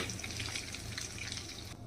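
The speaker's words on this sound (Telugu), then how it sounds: "కొద్దిగా చిక్కగా ఉంది కాబట్టి కొంచెం వాటర్ యాడ్ చేస్తున్నాను నేను" Water pours steadily into tomato masala cooking in a pan, a soft, continuous splashing trickle that stays faint and even, then cuts off near the end.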